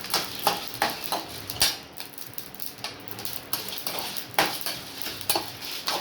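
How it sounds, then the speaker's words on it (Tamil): Dried red chilies and coriander seeds are dry-roasted in a pan without oil, a spoon scraping and clinking against the metal in quick, uneven strokes, with a faint rattle of seeds and light sizzle. "எண்ணெய் ஊற்றாத வறுத்துக்கலாம்."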